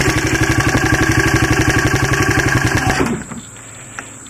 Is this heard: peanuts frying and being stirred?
no